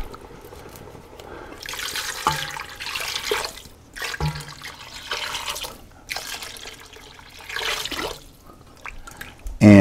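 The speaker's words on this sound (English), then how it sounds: "So now we're going to add our chicken broth." Chicken broth pours into a soup pot of wilting leeks for potato leek soup, a steady liquid splash in several bursts with brief pauses between them.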